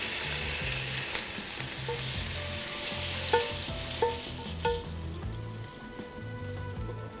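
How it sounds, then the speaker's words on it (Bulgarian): Steady crackling sizzle of onions frying in butter in a hot pan, with a few light utensil taps and scrapes partway through. "в нагорещения тиган поставяме малко мазнина, краве масло и запържваме лука"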